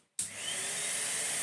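A Numatic Henry vacuum cleaner switches on abruptly after a brief silence, its motor rising into a loud, steady whirring hum that continues evenly to the end.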